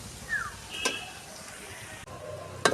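Chopped onion frying in hot oil with a pinch of salt while cooking chicken masala, a steady soft sizzle with a few stirring scrapes and light clinks of a spoon against the pan.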